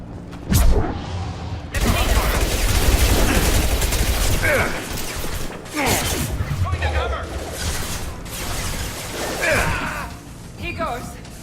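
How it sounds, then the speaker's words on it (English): Gunfire from a firefight in Mass Effect 2, with Blue Suns mercenaries and Vorcha shooting: dense, loud bursts and booms run through most of the stretch, rising and falling in waves. "Blue Suns and Vorcha shooting anything that moves."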